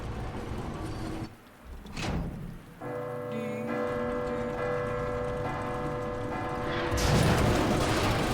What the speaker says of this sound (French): Est-ce que la cloche pourrait l'écraser s'il vous plaît?